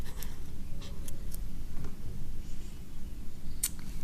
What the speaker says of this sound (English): the first thing that you're going to write down is G